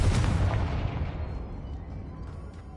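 A Confringo blast spell goes off in the video game Hogwarts Legacy: one loud, close explosive boom with a heavy low-end burst that rumbles and fades over a couple of seconds, with no talk.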